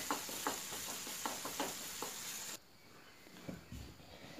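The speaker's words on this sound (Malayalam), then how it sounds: "നമ്മുടെ ഇഞ്ചിയും വെളുത്തുള്ളിയും നല്ലതുപോലെ വഴന്ന് വന്നിട്ടുണ്ട്" Ginger and garlic sauté in oil in a pan for chicken cutlets, giving a soft steady sizzle with light stirring scrapes that cuts off abruptly partway and leaves a faint quiet tail.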